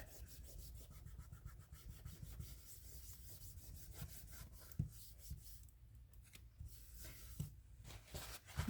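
Faint, steady rubbing as glue is scrubbed off a thrifted item, a continuous soft scraping texture with a few small knocks, quiet and close.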